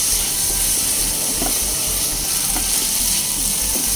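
Lukewarm water poured into spice paste frying in oil for a Bengali pabda fish and pointed gourd curry, giving a steady, loud sizzle and hiss with faint stirring scrapes throughout.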